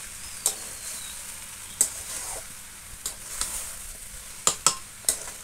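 Steamed young jackfruit sautés on low heat in a pan with a soft continuous sizzle. Sharp spatula scrapes and clacks land at irregular intervals, close by, with no talking.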